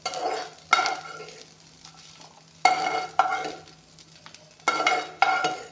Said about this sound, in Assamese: এতিয়া চাওক, বিনখিনি ধুনীয়াকৈ তেজপাতেৰে ভাজি ল'লোঁ